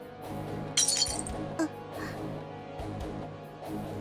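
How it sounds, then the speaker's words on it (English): A plate shatters in the visual novel Dies Irae: a sharp, bright crash with a brief ringing tinkle of shards, followed by a second small clink, over a steady bed of background music. "the sound of a plate shattering shook me out of my trance"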